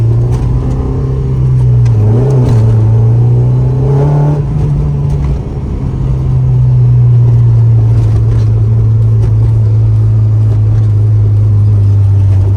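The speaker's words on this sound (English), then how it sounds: "let's go for a little drive in the Spec V" A Spec V car drives along with a steady, loud engine drone from inside the cabin, the pitch rising briefly and then holding an even hum, with no one talking.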